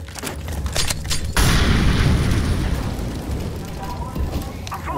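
A loud, close flashbang blast in CS:GO breaks into a sustained roaring burst that slowly fades, with game noise and sharp taps before it and no talk.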